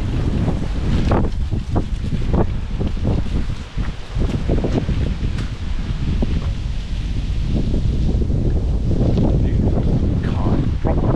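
Strong, steady wind blowing across an open riverside at Ely on a summer's day, loud and continuous buffeting throughout with rustling gusts.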